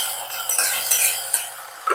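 A spoon stirs sabudana and mung dal kheer in a pot, several close scraping, clinking strokes over about two seconds with no talking.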